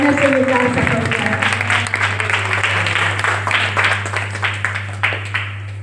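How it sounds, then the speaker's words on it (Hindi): An audience applauds an event organizer at a Bharatiya Sanskriti Gyan Pariksha gathering, a loud, sustained clapping of many hands with a steady low hum underneath, the applause gradually thinning out toward the end. "इसके बहुत बहुत इनके लिए ताली बजाइए आप लोग"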